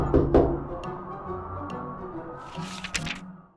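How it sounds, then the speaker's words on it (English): Knocking on a playroom window: a couple of sharp raps near the start, then softer scattered taps and rustling, fairly close and with no voices. "they heard a knock on the playroom window"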